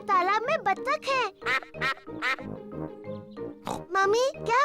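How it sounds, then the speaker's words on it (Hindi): Cartoon duck quacking at a pond in a Hindi-dubbed Peppa Pig episode, repeated nasal quacks and oinking character voices mixed with lively dialogue throughout. "देखो, वहाँ तालाब में बत्तख है।"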